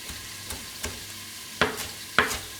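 Asparagus sautéing in a pan, heard as a quiet low sizzle broken by a few sharp stirring scrapes and clatters at irregular intervals.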